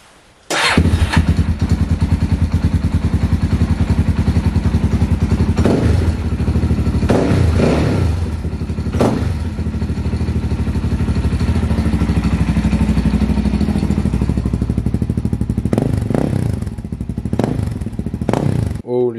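A Suzuki DRZ400 motorcycle engine starts after a brief crank and settles into a loud, steady idle with occasional revs, close by.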